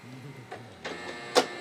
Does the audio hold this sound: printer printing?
yes